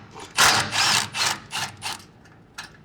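Working on a 2019-or-later RAM 1500 during a lift install, a ratchet with a 13mm socket removes a bolt in a quick series of five or six close, raspy clicking strokes, then one last short click.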